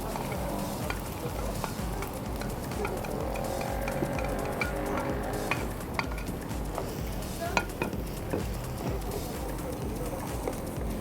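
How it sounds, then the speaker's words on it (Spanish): Garlic and onion sauté in a hot pan, giving a steady, close sizzle with occasional stirring scrapes and clinks that carry on without a break. "Aquí estamos sofriendo el ajo."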